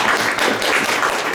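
An audience applauds the participants of a conference panel on ecumenical dialogue, a continuous wash of clapping from many hands that stays loud and even throughout, with no speech over it.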